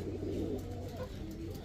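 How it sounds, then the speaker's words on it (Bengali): A pair of snake-eyed Gorra pigeons coo softly in low, throaty murmurs, faint and close, with no talking. "এখন দেখাবো এক জোড়া গররা কবুতর, সাপ চোখের গররা"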